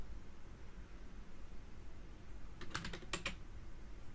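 Computer keyboard typing: a quick cluster of about six close, faint key clicks near the end, over a steady background hiss.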